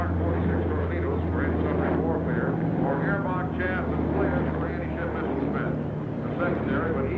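A Navy SH-60 Seahawk helicopter flies at the Jacksonville airshow, heard as a continuous low, droning engine and rotor hum in the distance beneath an announcer talking over a loudspeaker.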